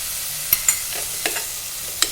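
Ginger frying in a pan with tomato purée, a faint soft sizzle with a few sharp spoon taps and scrapes at irregular intervals, with no voices.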